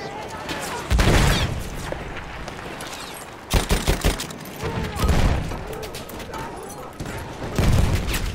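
Bombing and explosion blasts in Battlefield 1, heavy booms arriving in several loud bursts over continuous battlefield rumble, with someone talking over the din.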